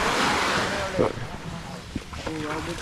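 High water rolling in at the shore, a broad steady wash of surf and wind noise with a few soft splashes, while people talk nearby over it.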